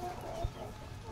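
Backyard chickens cluck faintly after being let out of their coop on a very hot day, with low, steady background noise around them.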